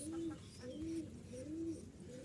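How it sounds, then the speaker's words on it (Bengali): A pair of pet tumbler pigeons coo in a repeated rolling pattern, several low throaty calls in close succession, near and fairly clear over a soft background hum. "তো এই হচ্ছে আমার এক জোড়া হাতবাজির কবুতর"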